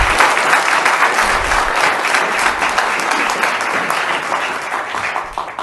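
Sustained applause from an audience at a community meeting, dense steady clapping that stays loud throughout with no gaps.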